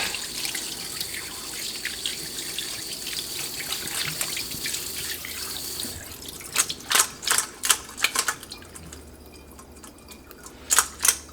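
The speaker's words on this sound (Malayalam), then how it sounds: "നമുക്ക് ഇതെല്ലാം കൂടിയിട്ട് ഒന്നും കൂടി ഒന്ന് കഴുകുക" Cleaned crab and squid being washed under a running tap in a kitchen sink, a steady hiss of flowing water joined later by quick clattering splashes and handling knocks.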